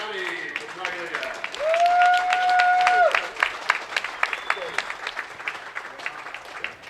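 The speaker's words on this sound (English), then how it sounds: "Big round of applause for your third place finisher, Johnny Petraglia." A crowd at a senior bowling stepladder final applauds the third-place finisher, a dense burst of clapping with a brief cheer, then lighter scattered claps as an announcer talks over it.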